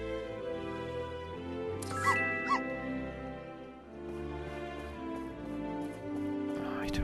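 A dog in the video game My Time at Portia gives two short yips over a steady game music bed, followed by soft squeaky effects.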